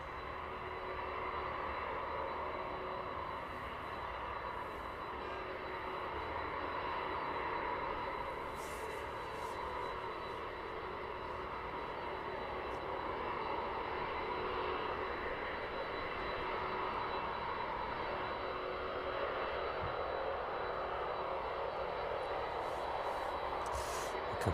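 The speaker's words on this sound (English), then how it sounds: "DHL 767 there, just passing by." A DHL Boeing 767 passing by near East Midlands airport, a broad steady jet roar that holds at an even level throughout and slowly swells as it draws closer, with no talking.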